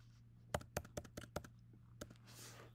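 Keystrokes on a computer keyboard on a Macintosh, six or seven crisp close clicks in a quick uneven run, then a lone tap and a soft rustle over a steady low hum.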